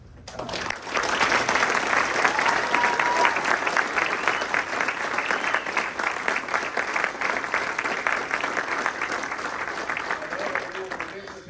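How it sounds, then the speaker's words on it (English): A loud, sustained round of applause from a crowd at a military retirement ceremony for a colonel, building quickly and holding steady for several seconds, with some voices mixed in. "if we could get just a loud and rambunctious round of applause for the team that made this possible"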